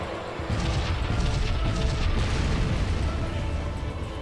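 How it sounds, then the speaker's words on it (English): A sudden burst of rumbling explosions in a sci-fi video game kicks in after a brief pause, followed by sustained crashing, booming noise that stays loud throughout. "as the explosions go off"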